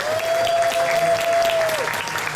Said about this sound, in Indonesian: Tepuk tangan dulu buat Mas Joko.